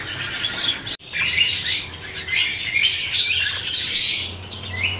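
A young cucak ijo songbird at a bird market kiosk sings bright, rapid chirping phrases in quick succession, close and clear, with one brief gap near the start and faint background murmur.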